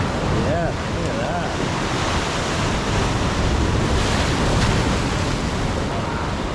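Ocean waves crash on a beach in southern France, a loud, steady roar of surf with wind rushing across the microphone and a voice speaking briefly near the start.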